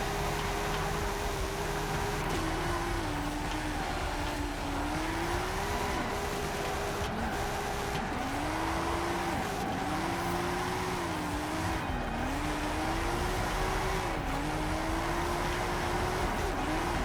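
A video-game car drifting around the Hot Wheels Goliath track, its engine droning steadily and its revs rising and dropping in repeated swoops through each slide, under a constant backdrop of game noise.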